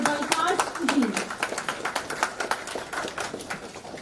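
Scattered hand claps ring out from an audience welcoming a guest at a one-day workshop on rural water supply operation and maintenance, with a voice briefly heard at the start before sparse, irregular claps continue.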